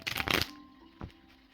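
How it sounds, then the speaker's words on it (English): A tarot card deck being shuffled, a dense burst of riffling card flutter in the first half-second, then a lone soft card slap before things settle quiet. "I hate shuffling this deck sometimes."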